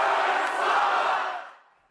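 A large crowd in the Lithuanian capital at the NATO summit roars and cheers for Ukraine's president, a dense, loud wash of voices that fades out over about two seconds.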